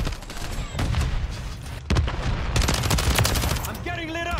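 Bursts of video game gunfire in a shooter, dense and loud, with overlapping shots and a chirpy electronic effect near the end, and a voice faintly mixed underneath.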